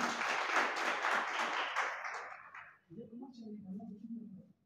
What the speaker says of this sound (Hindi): ज़ोरदार तालियों से उनका इस्तकबाल कीजिए